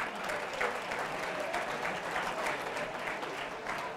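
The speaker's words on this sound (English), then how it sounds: "Can we give them a big St. Luke's round of applause?" A large audience at a talk claps in a sustained round of applause, dense and even across the whole stretch, loud and close with a few faint crowd sounds mixed in.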